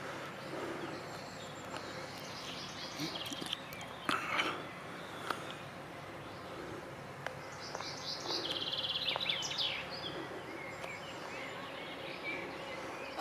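Birds singing in the countryside near Salzburg, including swallows and cuckoos, with scattered chirps and trills at moderate distance over steady outdoor background noise.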